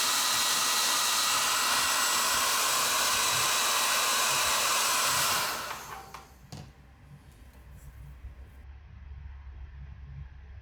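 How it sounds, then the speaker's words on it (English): Heat gun blows a loud steady hiss onto the rubber boot of a custom spark plug wire for a Harley Sportster Ironhead, then switches off and winds down, leaving quiet handling sounds. "let me put a little heat on it and expand this rubber a little bit further"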